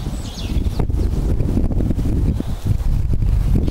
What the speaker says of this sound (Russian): Во, ветрюга.